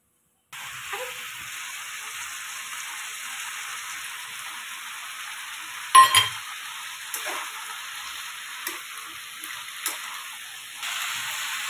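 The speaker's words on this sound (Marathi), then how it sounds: "मस्त हळदीमध्ये आलं लसूण पेस्ट आणि तेलामध्ये हे छान सगळ्या भाज्या आपल्याला परतून घ्यायच्यात" Vegetables sauté in hot oil with turmeric and ginger-garlic paste for a khengat dish, giving a continuous loud sizzling hiss with a few sharper crackles and clinks of stirring.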